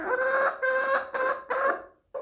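Hybrid backyard chickens cluck close by in four short bursts, each a throaty, tonal call with brief gaps, the last cut off abruptly.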